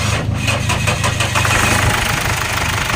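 A 2009 Ford Everest's noisy engine cranks and catches, a loud rough churning rumble with rhythmic knocking pulses that settles into a steadier running drone.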